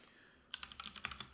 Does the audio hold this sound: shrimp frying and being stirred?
no